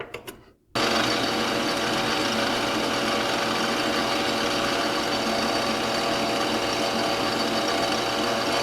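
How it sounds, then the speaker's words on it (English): A drill bit plows through plastic on a mill: after a brief pause, a loud, steady high-pitched whirring and grinding starts up and runs continuously at close range. "with a drill bit, you can just plow right through it"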